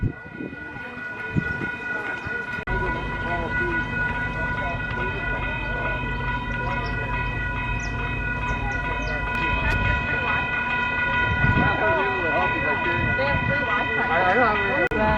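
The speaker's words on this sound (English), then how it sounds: "It's like a trolley, more like a trolley than a train." A trolley-style train ride at Dole Plantation on Oahu rumbles along with a steady drone and tonal hum, while people talk throughout.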